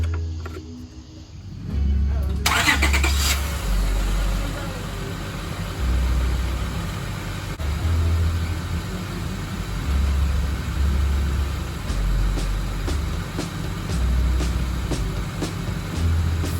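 A car engine idles steadily right after an oil change, a close low rumble that holds for the whole stretch with a slight rhythmic pulsing and a faint hiss above it.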